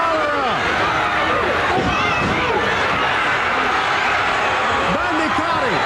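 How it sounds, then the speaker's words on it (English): Dense arena crowd at a Memphis wrestling match, a steady roar of cheering and chatter filling the whole stretch with a commentator's voice woven through it. "Lawler, listen to this crowd."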